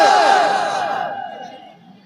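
A large gathering at an Islamic sermon meeting shouts the takbir chant in unison, a loud, sustained chorus of many voices that fades away over about two seconds.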